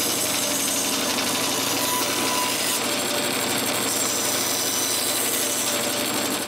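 A band saw cuts a small circle out of wood, giving a loud continuous buzzing whine with a steady grinding rasp that holds without pause from start to finish.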